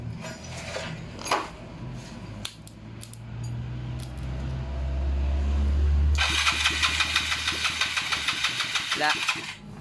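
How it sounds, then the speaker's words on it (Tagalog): A Yamaha Mio scooter with a loose battery cranks after a few scattered knocks, catches and settles into a loud, sputtering idle with a rapid regular beat close by. Voices are heard faintly early on. "Start mo na yung motor na yan."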